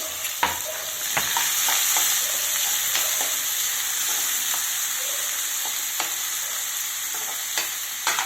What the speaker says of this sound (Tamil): கடாய் காஞ்சானா இப்போ கருவேப்பிலை, ஆனியன் போட்டுக்கலாங்க, க்ரீன் சில்லி,